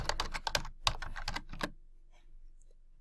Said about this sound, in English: and type in a password.